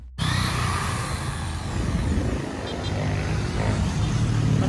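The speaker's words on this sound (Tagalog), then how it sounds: "natapos nang i-drill ni kuya yung bubong ng aming espresso" Electric drill boring holes into the sheet-metal roof of a Suzuki S-Presso for a roof rack, fixed with stainless steel screws; a loud, steady whine runs nearly throughout.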